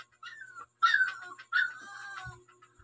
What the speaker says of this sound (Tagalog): pati aso ko masaya na